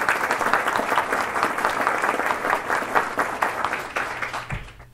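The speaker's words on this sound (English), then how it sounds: "Let's give them a round of applause." A seated audience at a 2016 Ventura County education event gives sustained, even applause, many hands clapping close and steady for several seconds before fading out at the end.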